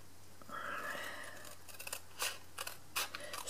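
Scissors cut through paper in a few close snips and crisp slicing strokes during papercraft work, with no voices.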